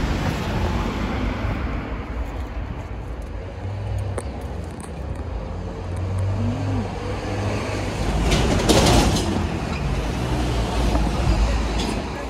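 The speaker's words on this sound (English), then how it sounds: "You have to excuse the traffic noise" A steady roar of road traffic passes nearby, swelling as a vehicle goes by, with a low rumble throughout and faint birdsong.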